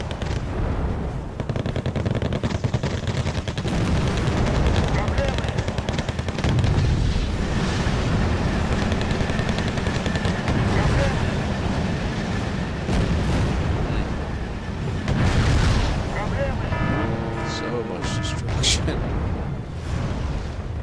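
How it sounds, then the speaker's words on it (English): Artillery and MLRS rockets pound tanks and APCs in Wargame: Airland Battle, a sustained barrage of crackling gunfire and rumbling explosions with brief louder bursts and whistling, sweeping sounds near the end. "MLRS strike, artillery strike coming in"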